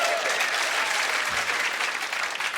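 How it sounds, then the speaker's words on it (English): A comedy club crowd at a stand-up show applauds in a dense, continuous wash of clapping that stays even and fairly loud throughout. "I honestly don't know why you're clapping for Welland, Ontario."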